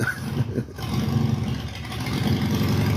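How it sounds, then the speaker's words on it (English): A neighbor's motorcycle engine runs next door, a steady low rumble that swells slightly and holds for the whole stretch, fairly close and loud. "That sudden motorcycle noise would definitely startle anyone during a deep consciousness session."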